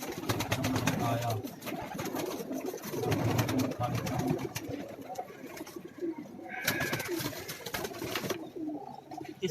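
Pigeons coo in soft repeated bursts while a person talks nearby amid some background clatter.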